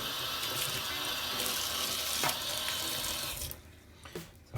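Very hot water runs hard from a tap while a doll is rinsed, a loud steady rush that cuts off near the end, leaving a couple of small clunks.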